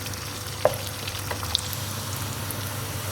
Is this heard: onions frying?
yes